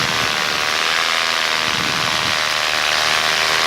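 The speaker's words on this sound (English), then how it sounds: "My engine is surging." A foot-launched paramotor's engine roars loud and close in flight, a dense, continuous drone mixed with rushing wind, with no voices.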